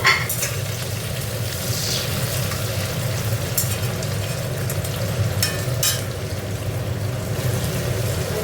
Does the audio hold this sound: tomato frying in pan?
yes